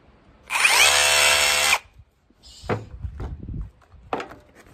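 A hammer drill runs in hammer-only mode in a short, loud, steady burst of about a second, followed by a few scattered knocks and handling clatter from the tool.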